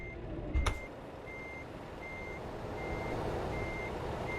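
Reversing beeps from a truck in Euro Truck Simulator 2 hauling an oversized load: a steady series of evenly spaced, moderately loud high beeps over a constant engine and road drone, with a short thump near the start.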